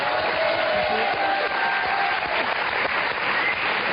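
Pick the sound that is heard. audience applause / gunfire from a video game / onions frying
audience applause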